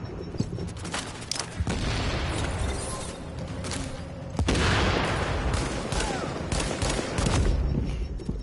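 Gunfire rings out in The Division video game, several sharp, loud shots and booms spread irregularly over steady background battle noise.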